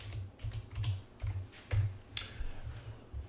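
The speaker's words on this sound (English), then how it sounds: "So I'll type in the same word." Keys clacking on a computer keyboard while a word is typed into LibreOffice on an MX Linux Xfce desktop, a close, irregular run of taps and clicks with no talking.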